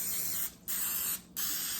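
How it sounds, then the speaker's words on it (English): Oil sprays onto an appetizer base before baking in two steady hissing bursts, each under a second long, split by a short pause, close and clear with no talking. "Spray it and then put it in the oven just to brown it a little bit"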